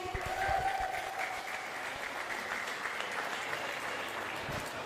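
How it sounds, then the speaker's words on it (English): An audience claps for athletes at a sports showdown, a sustained wash of many hands applauding with a slightly louder burst at the start, then steady clapping with no talking. "Another round of applause for all of our athletes today."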